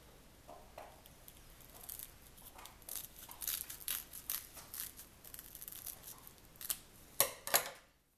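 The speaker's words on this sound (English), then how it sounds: "and then just cut off the excess" Scissors snip through a length of Velcro hook-and-loop strap to trim off the excess while making a DIY plastic worm and lure carrier, giving a few quiet, close cuts with crisp crinkling bursts near the end.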